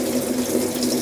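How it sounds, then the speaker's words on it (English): Water rushes steadily into a Panda PAN50SW portable automatic washer as it begins filling after the start button is pressed, a constant close hiss and splash with no talking. "the water going in"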